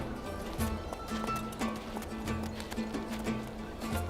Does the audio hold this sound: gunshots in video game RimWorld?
no